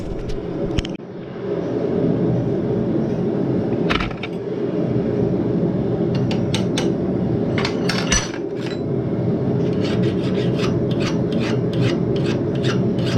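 A hand file rasps along the edge of a knife forged from a horseshoe in repeated close strokes, with a few sharp metallic clinks mixed in.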